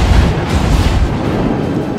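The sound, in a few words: battleship Fuso main turret guns firing, World of Warships video game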